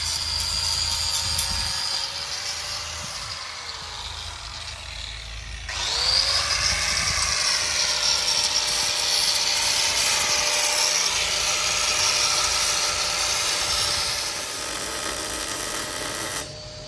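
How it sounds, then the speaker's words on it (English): A power tool grinds down a narrowboat hatch frame, with one sustained whining pass followed by a short pause and then a louder, steady grind that runs close and loud to the end. "Graham's finishing grinding down that hatch"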